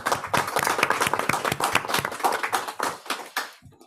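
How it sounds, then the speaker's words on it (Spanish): A room full of people claps, a dense burst of applause that thins out and fades away after a few seconds. "Le vamos a dar un aplauso."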